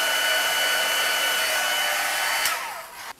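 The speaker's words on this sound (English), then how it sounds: "now you need to heat up the embossing powder with a heat tool" Heat tool warming embossing powder for a watercolour floral craft project blows a loud, steady whirring hiss with a faint tonal whine, then winds down and cuts off near the end.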